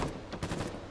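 A mortar fires in the Foxhole video game, a sharp blast with a short rumbling tail heard close and alone, with a second burst of report around the middle of the second.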